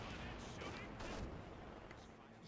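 Distant indirect artillery fire rumbles through a Company of Heroes 2 4v4 match, a low continuous barrage of muffled booms sitting faintly under the background din.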